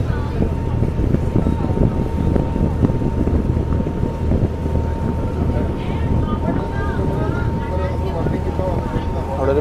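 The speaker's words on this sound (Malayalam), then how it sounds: "അപ്പോൾ നമ്മൾ ഇങ്ങനെ തിരിഞ്ഞ് വളഞ്ഞിട്ടൊക്കെയാണ് നമ്മൾ ബോട്ട് ജെട്ടിയിലേക്ക് പോവുക" Passenger ferry boat cruising the Kumarakom–Muhamma backwater route, a steady low engine drone with constant water and wind rush filling the whole stretch, close and fairly loud, with faint voices beneath.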